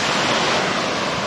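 Jalpari waterfall at Mainpat hill station flows with a steady, close, full rushing roar of falling water that holds at an even level throughout.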